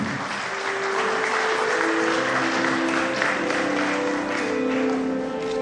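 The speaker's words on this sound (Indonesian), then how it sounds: "Mohon tepuk tangan untuk Lion Silviana Murni." An audience at a Lions Club Indonesia reception with Jakarta's deputy governor breaks into sustained applause, a dense, even roar of clapping lasting nearly six seconds, with faint tones and murmurs beneath it.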